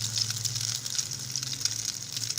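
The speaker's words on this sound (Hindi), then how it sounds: "एक अंडे में जो है थोड़ा सा दूध और थोड़ी सी चीनी मिला के उसको मिक्स करके उसमें जो है स्लाइस डुबो कर तो उनको थोड़ा सा फ्राई कर लेते हैं" Bread slices dipped in a mix of egg, milk and sugar fry in a pan with a steady, close sizzle and soft crackle. No one speaks.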